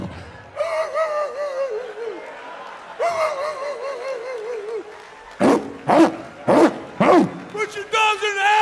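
A comedian imitates barking dogs on stage, first with long whining, wavering howls, then a run of sharp, loud, evenly spaced barks and yips close to the mic.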